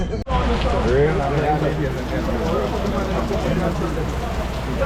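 Steady rain patters down in a constant wash of noise while people talk close by.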